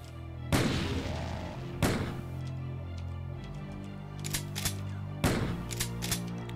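Heavy booming shots from an assault shotgun in the video game DoomRL, four loud blasts at irregular intervals, each with a long rumbling decay, over a constant low hum.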